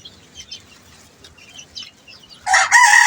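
Soft, scattered clucking from chickens, then a loud, near rooster crow bursts in at the end and carries on to the close.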